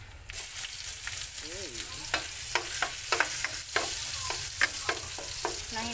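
Pork curry ingredients sautéing in oil give a loud, continuous sizzle, with a rhythmic run of utensil scrapes and stirs against the pan; a brief word is spoken early on.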